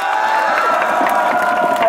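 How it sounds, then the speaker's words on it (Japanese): Crowd applause and cheering at a nighttime SEALDs protest against the security bills outside the National Diet Building in Tokyo, 15 July 2015, a dense, continuous roar of clapping and shouting voices filling the whole stretch at steady loudness. "もう一回大きな拍手を"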